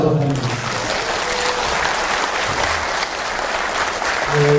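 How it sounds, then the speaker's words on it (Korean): Sustained audience applause after a lecture by a former intelligence chief at a history academy session in Korea, filling the whole stretch with dense, even clapping and a few voices briefly audible at the start and end. "큰 박수로 다시 한번 합니다."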